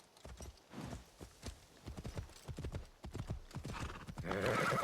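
A horse in the video game Assassin's Creed Shadows gallops through a bamboo forest with rapid, close hoofbeats and lets out a clear whinny, the sound growing louder and denser toward the end.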